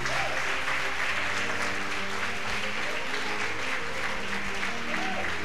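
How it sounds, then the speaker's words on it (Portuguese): A church congregation at a Portuguese-language service claps loudly and continuously, with music or voices sustained underneath the full, unbroken applause. "Dê um aplauso bem forte para Jesus de Nazaré."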